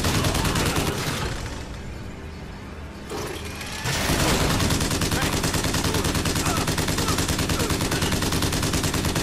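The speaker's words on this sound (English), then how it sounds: "Guess I'm picking up the crank gun." A crank gun firing in the video game Bioshock Infinite, a loud, relentless rattle of rapid-fire shots that eases briefly before resuming in a sustained stream, with talk faintly beneath.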